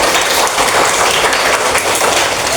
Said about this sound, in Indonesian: tepuk tangan buat Sydney.